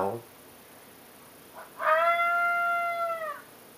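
A single long, steady coyote howl from a FoxPro Spitfire electronic caller, held for over a second with a slightly falling pitch, follows a few brief, faint sounds.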